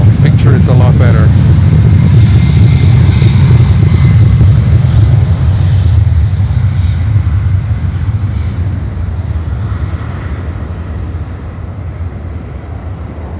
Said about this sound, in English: Good takeoff. Taking off towards Miami.